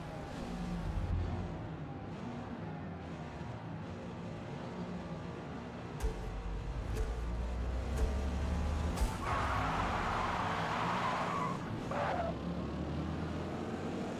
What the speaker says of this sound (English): The tires are still really loud.